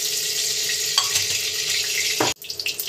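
Fish frying in hot oil in a pan while making tilapia curry, a dense continuous sizzle with a brief clatter near the end as it changes, no voices.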